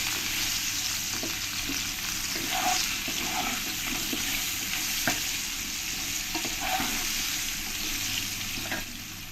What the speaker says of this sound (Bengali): এবার আমি এই আলু আর ক্যারেটের মধ্যে একটু হলুদ দিয়ে দেবো আর একটু লবণ দিয়ে দেবো দিয়ে আমি ভালো করে লাল লাল করে ভেজে নেব